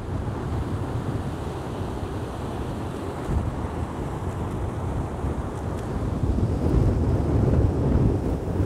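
Sea waves crashing on a shore in strong wind during bad weather. A loud, continuous roar of surf mixes with gusting wind noise on the microphone, building slightly toward the end. No one speaks.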